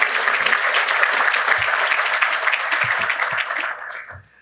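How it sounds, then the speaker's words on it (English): A round of applause for the serving staff fills a banquet room, dense and steady clapping with a few scattered louder claps, then fading out over the final half second. "Let's give them another round of applause"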